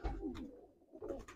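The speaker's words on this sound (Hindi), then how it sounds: "एकदम शानदार और बढ़िया लाजवाब कबूतर आपके लिए लेके आया हूं मैं।" Rampuri and golden Sialkoti pigeons at a sale coo softly in a short, low murmuring burst, fairly faint and close, with no talking over it.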